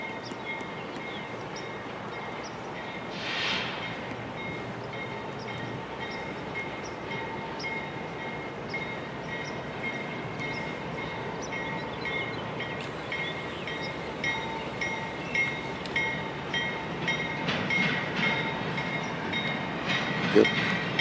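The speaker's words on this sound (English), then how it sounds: "The same train we saw in Elk Mills." A train rolls past on railroad tracks with a sustained rumble and steady wheel noise, and rhythmic clickety-clack wheel beats grow stronger toward the end.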